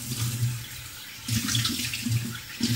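Hands rinsed under a running kitchen tap while cooking, water splashing steadily, easing briefly midway then gushing louder again, close and alone.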